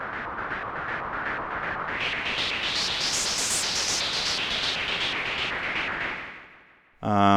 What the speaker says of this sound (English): Remember the white noise I told you about?